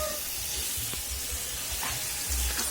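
Vegetables frying in a hot pan, a loud, steady sizzle and hiss close by that runs throughout, with faint stirring movements and no one talking.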